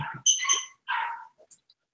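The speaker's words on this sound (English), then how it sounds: "What's going on with the dogs, Russell?" Dogs barking in a few short, loud bursts close by, separated by brief pauses and trailing off into quiet.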